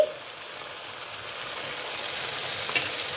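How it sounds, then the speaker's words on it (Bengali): Spice paste with poppy seed and cashew paste sizzles steadily in a pan for Katla fish rezala, a continuous close frying hiss with faint scraping from stirring and no talk. "আবারও ভালো করে মশলা কষিয়ে নিচ্ছি।"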